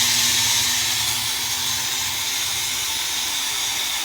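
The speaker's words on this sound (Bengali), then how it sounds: "আচ্ছা কি প্রেসার কুকার থেকে গ্যাসটা কিভাবে বের করবো দেখো।" Steam hissing hard out of a pressure cooker's release valve while cooking nihari, a loud, continuous, bright whoosh that holds steady for several seconds with no voices over it.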